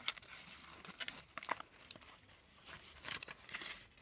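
A Kinder Surprise egg's foil wrapper being torn open carefully, with faint close crinkling, tearing and crumpling bursts in irregular short pulses, quiet with no voice.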